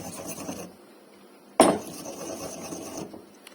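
Black pepper or a similar ingredient for pasta alla carbonara is ground coarsely in a home kitchen. There is a sharp gritty crunch, then a steady scraping and rasping that continues at close range, with no one speaking.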